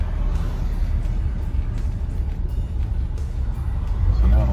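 A 1986 Dodge D150 pickup with a rebuilt transmission accelerates under steady throttle, its engine and drivetrain making a continuous low rumble inside the cab that swells toward the end as it climbs through the gears.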